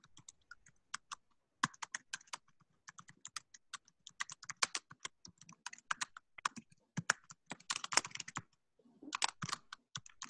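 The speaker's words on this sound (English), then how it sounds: "I hear someone typing," Someone types on a computer keyboard during a Zoom meeting, giving irregular, crisp clusters of keystrokes with short pauses, close and fairly quiet, with no talking.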